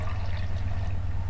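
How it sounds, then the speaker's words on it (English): Running water from a toilet flush fills a horror game about a shower, a steady close rushing wash over a low droning hum, with no voice. "Nah, it's just flush again."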